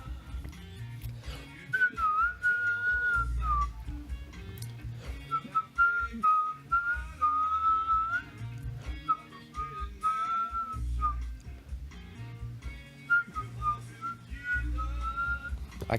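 A person whistles a wavering, slightly unsteady tune in short phrases over a steady low musical backing, close and clear throughout.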